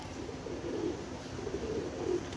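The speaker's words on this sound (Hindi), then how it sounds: "ये सलारा है जी, ये सलारा कबूतर है" Salara pigeon cooing close by, soft low murmuring coos in a few rounded pulses over a quiet background.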